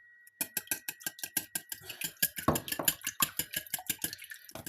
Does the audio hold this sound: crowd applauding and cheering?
no